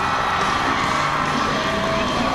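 A festival crowd at an outdoor sports and music event in Austin, Texas, cheering and shouting as a steady, dense roar, with a few whoops rising above it.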